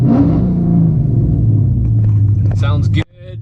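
A cammed 392 V8 idling after a cold start gives a loud, steady, deep rumble that fills the whole clip, cut off sharply near the end while a voice speaks briefly over it.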